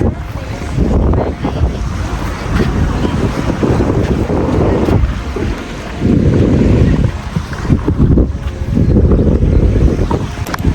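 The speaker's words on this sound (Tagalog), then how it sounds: "ito yung dagat ng San Fernando" Sea at San Fernando beach, gusty wind buffeting the microphone in loud, uneven bursts over a low wash of surf, no talk.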